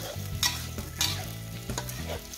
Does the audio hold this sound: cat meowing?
no